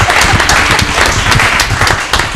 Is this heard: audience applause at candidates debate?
yes